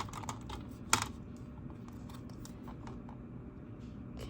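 Scissors cutting a laminated envelope, a series of quiet close snips and crinkles with one sharper click near the start, otherwise faint and even.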